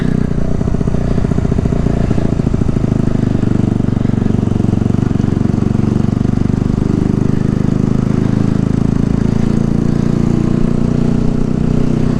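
A Kawasaki Z125 motorcycle pulls away, its small single-cylinder engine loud and close with a rough pulsing drone, throttle rising then settling over wind rush.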